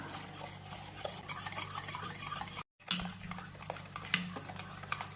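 Mango puree is stirred by hand into a wheat-flour cake batter sweetened with jaggery, giving soft, continuous wet scraping and light patter in a bowl, close and fairly quiet, with a brief silent gap midway.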